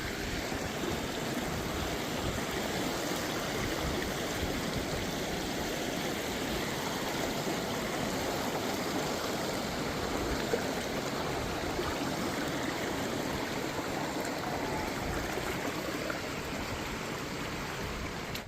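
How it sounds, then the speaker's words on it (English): Steady rushing of a stream flowing over rocks at the base of a waterfall, a wild swimming spot with stepping stones; a continuous, even roar of water with no voices. "Right at the base of the waterfall"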